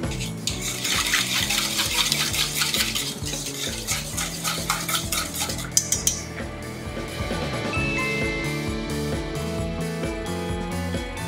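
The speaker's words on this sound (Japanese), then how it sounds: "次に牛乳を加えよく攪拌して混ぜてください。" Milk being whisked into a French toast marinade in a bowl, a steady close scraping and clinking of utensil against the bowl that stops partway, leaving a softer clatter and faint ringing tones.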